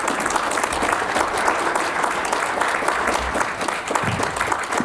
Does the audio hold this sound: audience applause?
yes